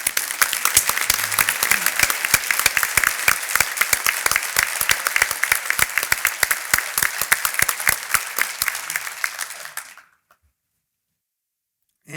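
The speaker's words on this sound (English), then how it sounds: "let's give them a round of applause." A crowd at a breakfast event applauding staff steadily for about ten seconds, dense and loud, then stopping abruptly into silence.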